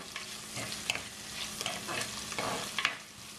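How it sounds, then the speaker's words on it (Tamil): A Jaffna-style sardine and boiled egg curry mixture being stirred as it sautés in a pan, with spoon scrapes and clinks recurring every second or so over a low, steady sizzle. "ஒருக்கா மிக்ஸ் பண்ணி விடுங்க."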